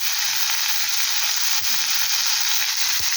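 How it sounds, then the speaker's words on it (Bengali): Tomato masala with salt frying and being stirred in a pan, a loud, continuous close-up sizzle with occasional soft scrapes and no talking. "এবার আমি একটু স্বাদ মতো নুন দিয়ে দেবো এর মধ্যে"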